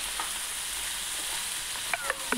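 Raw banana pieces fry in a pan with onions, curry leaves and tempering spices, a continuous close sizzle with a few light clinks of a utensil near the end.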